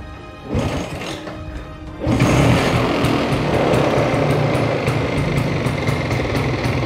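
A Vespa scooter engine, an older bike being checked for roadworthiness, fires up partway through and settles into a steady, loud, buzzing run that continues to the end with no talk.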